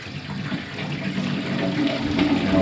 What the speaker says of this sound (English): we're going to set ourselves up with a bit of warm water and a little bit of dishwashing detergent